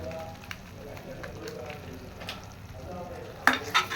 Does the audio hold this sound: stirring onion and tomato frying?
yes